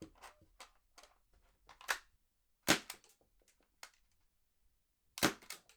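Airsoft MK23 pistol fired with a Silverback suppressor, giving short, sharp muffled snaps at spaced intervals alongside fainter clicks and mechanical handling noises, close and fairly quiet.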